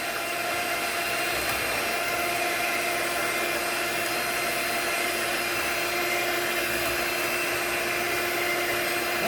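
An electric mixer hums steadily and continuously while mixing banana bread batter, giving a constant close motor whine with no pauses.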